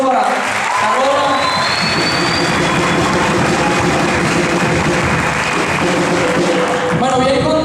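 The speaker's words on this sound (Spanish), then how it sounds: "un fuerte aplauso para Carola" A crowd at a youth gathering on Margarita Island in Nueva Esparta gives Carola loud, sustained applause that runs for several seconds at close range, with a few voices rising over the clapping.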